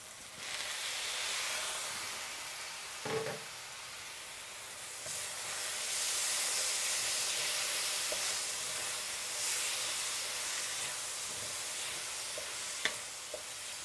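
Ethiopian tibs meat with tomato and onion fries in a pan, a soft continuous sizzle and hiss with a few faint utensil clicks, fairly quiet and without talk.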